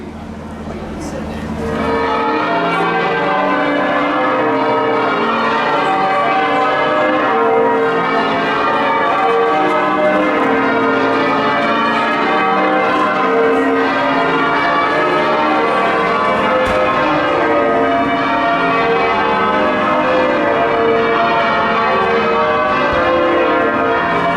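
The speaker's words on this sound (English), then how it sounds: "Listening to the amazing sound of the bells there from the stunning York Minster" Church bells of York Minster ring out at Christmas, a loud, continuous peal of overlapping tolls with rich ringing overtones, sustained throughout with no talk.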